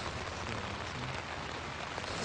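Rain patters onto a tent in the Peruvian mountains, a continuous close, full hiss of drops on the fabric over a brief moment with no voices.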